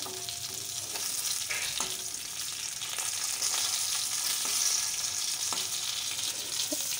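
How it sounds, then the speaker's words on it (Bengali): Fish frying in hot oil for a Bengali fish curry, a steady dense sizzle that holds throughout, with a few faint clinks of stirring and no talking. "এখন বাকি মাছগুলো ভেজে নেওয়া হচ্ছে"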